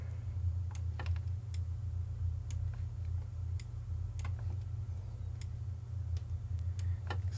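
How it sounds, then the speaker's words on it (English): A metronome-style click track ticks out a steady tempo as a series of faint, evenly spaced clicks over a loud constant low hum, with no one speaking. "So I'll put a little click track in here for him to be able to hear"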